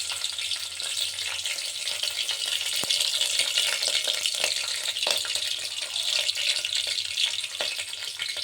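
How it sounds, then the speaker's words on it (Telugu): Mustard seeds fry in hot oil for an Andhra-style pappu charu, a loud continuous sizzle and crackle with scattered sharp pops, close up and with no talking. "తర్వాత ఆవాలు వేస్తున్నాను"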